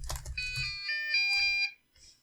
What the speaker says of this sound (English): I got some noises beeping.